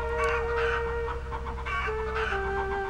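Game chickens cluck and a rooster crows amid steady background game music, the bird calls repeating close and loud for a few seconds with no talk.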